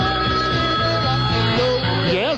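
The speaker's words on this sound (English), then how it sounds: "Celebrity line ringing." A telephone bell rings in a steady repeating pattern, loud and close, with a brief warbling tone near the end.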